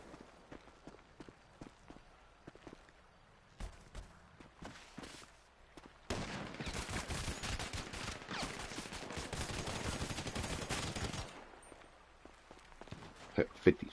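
Rapid bursts of gunfire in the Grand Theft Auto video game, a dense loud stretch of shots in the middle with scattered single cracks around it, while people talk.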